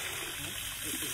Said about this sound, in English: And then put more water